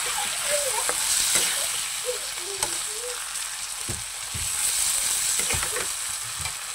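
Chicken curry meat sautéing in oil, a steady loud sizzle broken by frequent scraping stir strokes and occasional spatters, heard close with no talking.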